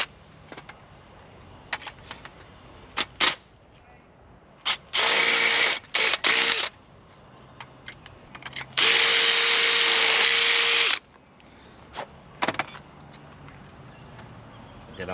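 Ratchet wrench driving the last bolt home on an R34 Nissan Skyline out on the street, heard as scattered clicks and then two long runs of fast, loud ratcheting, the second and longest near the end.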